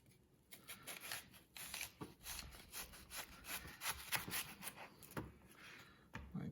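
A knife slices through a large onion on a board in repeated short, scratchy cuts, fairly close and quiet, with brief pauses between the strokes.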